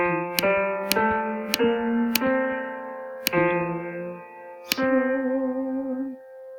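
Piano-like tones played as a musical fifth, six sharply struck notes, separate and overlapping, each ringing clearly with harmonics and decaying, with no talk.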